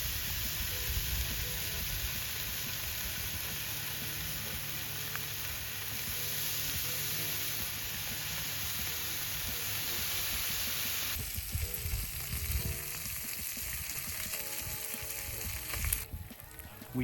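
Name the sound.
eggs and bacon frying on a griddle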